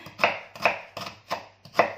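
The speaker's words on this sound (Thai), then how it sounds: "ในระหว่างนั้นเราก็มาหั่นหอม ใหญ่นะ" A knife chops a large onion on a cutting board in a home kitchen, five crisp, evenly spaced thuds, close and alone.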